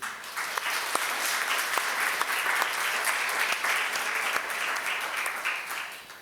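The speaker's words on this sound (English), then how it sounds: "A big round of applause for you" Audience applause at a European digital infrastructure consortia panel session, a steady dense round of clapping lasting several seconds with no talk over it.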